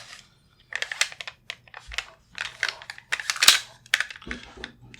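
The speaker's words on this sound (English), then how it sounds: "So now when we pull the bolt back," The bolt of a Bushmaster ACR 6.8mm SPC rifle is pulled back, giving a series of close, sharp metallic clicks and scrapes in quick irregular bursts with brief pauses between.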